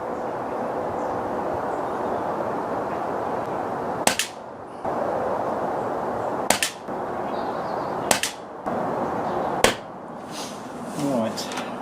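Four sharp gunshots ring out at shooting targets, spaced a couple of seconds apart, each a loud crack over steady outdoor background noise, followed by a brief metallic ringing near the end.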